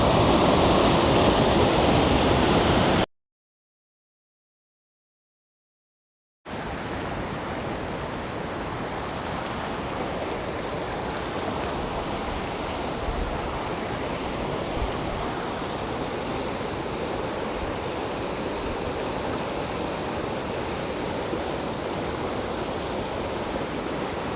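Continuous broad rushing roar of waterfall water at Lava Point in Daringbadi, steady and close, broken by a brief gap of silence early on, with no voices.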